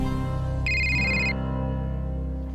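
A telephone ringtone sounds loudly and close, a steady electronic ring with a brighter tone burst partway through, over a constant background hum.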